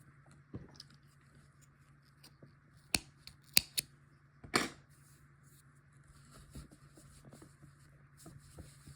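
Scissors snip knitting yarn to finish a knitted washcloth, a few sharp close clicks clustered in the middle over a quiet room hum, with no talking.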